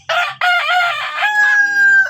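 A village rooster crows loud and close among native free-range chickens, one long drawn-out call with a rising start and a sustained tonal finish.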